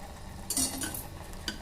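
A spoon stirring garlic paste and oil in a pan for pundi palya, producing soft scraping and a couple of light metallic clinks against the pan, close and quiet with a faint sizzle.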